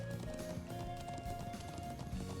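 Horse galloping across open ground in the video game Trails of Cold Steel, a steady quick clip-clop of hooves under game music, moderately loud and continuous.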